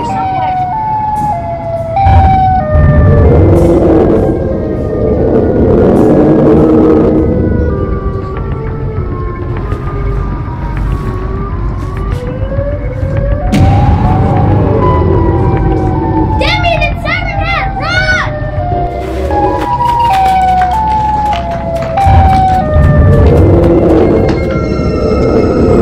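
Rising and falling siren wail of the Siren Head creature during a backyard Nerf battle, looping loudly for most of the clip with bursts of higher pitched tones, while children talk and shout over it.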